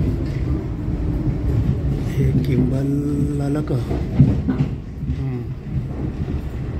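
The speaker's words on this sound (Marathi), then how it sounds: "ही ट्रेन गोल फिरून आली." A Chicago CTA metro train rumbles and clatters at a steady, loud level throughout, with a brief squeal midway and a person speaking over it.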